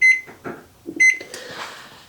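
An oven timer beeps as it is set in a home kitchen, a few sharp electronic beeps in quick succession with a short pause between, followed by faint rustling.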